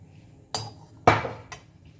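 A metal kadhai pan gives a few sharp clinks and knocks while oil is added for a samosa potato filling. There are three distinct metallic hits in quick succession in a quiet kitchen.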